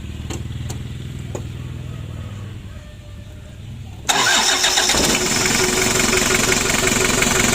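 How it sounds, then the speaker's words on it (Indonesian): A Helen F70 engine is preheated, then cranks and catches, jumping to a loud, steady running clatter that continues to the end. "Untuk mesinnya sudah hidup."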